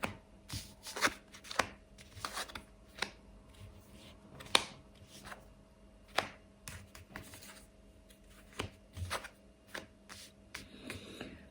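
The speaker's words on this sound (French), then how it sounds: "je vais retourner déjà toutes les cartes" Cards being turned over and handled during a card reading, a series of soft close flicks, taps and slides spaced irregularly in a quiet room without talk.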